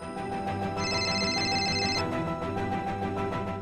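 A telephone rings with a repeating electronic tone, loud and close, sounding on its own over a faint background.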